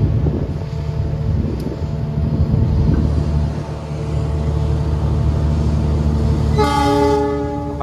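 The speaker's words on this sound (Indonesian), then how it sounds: "Dari arah timur juga terdapat kereta api yang akan masuk teman-teman" A tank-car freight train approaches from the east along an Indonesian railway line, its low rumble steady under wind noise before a loud, sustained horn blast sounds near the end.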